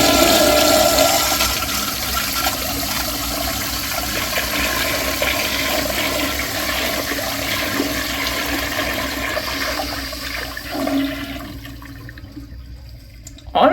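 An American Standard Madera toilet in its 3.5 gallon version flushes with a loud, close rush of water that holds steady for most of the clip before draining and tapering off into near quiet.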